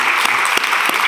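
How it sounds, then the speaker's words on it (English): Audience applause at an artist talk, a steady wash of many hands clapping close and loud throughout, with no voices over it. "a warm round of applause."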